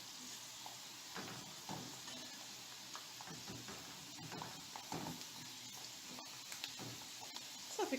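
Small chicken pastillas frying in oil that was heated up from cold, giving a faint, steady sizzle with soft crackles and occasional light stirring or utensil taps.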